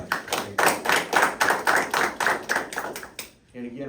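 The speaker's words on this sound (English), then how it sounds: "we give you a round of applause" Audience clapping at the reopening ceremony of a regional education center, a steady burst of many hands applauding that fades out near the end.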